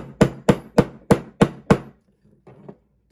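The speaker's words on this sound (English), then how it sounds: "We'll just tap it." Six evenly spaced hammer taps driving a 1911 night sight into the slide dovetail, sharp close metallic knocks in a steady rhythm, followed by a couple of faint softer taps.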